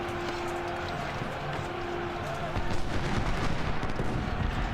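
Gunfire and artillery shots from a battery in the Civil War strategy game Ultimate General, a dense, continuous rumble of battle noise that grows heavier halfway through, with a steady tone running beneath.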